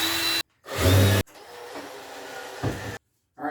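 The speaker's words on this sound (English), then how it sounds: "now I can go ahead and put my pilot hole, and then I want to put a countersink" A power drill bores a pilot hole and then a countersink in wood, in two short loud bursts of whirring separated by brief pauses and followed by a quieter stretch of drilling.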